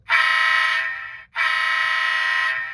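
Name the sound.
model locomotive horn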